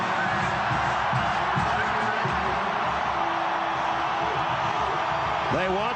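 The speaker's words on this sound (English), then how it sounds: "They've got the loud crowd." A loud home crowd fills a night Tennessee college football stadium before an Auburn game, with a steady, dense roar and scattered whoops that hold throughout, and a voice talking over it.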